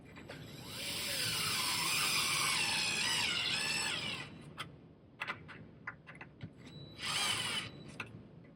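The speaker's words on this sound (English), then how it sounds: "You could also pre-drill the holes a little bit more if you'd like" A power drill whirs for a few seconds while driving into a cabinet during light installation, then stops, followed by scattered clicks and a short second burst of drilling.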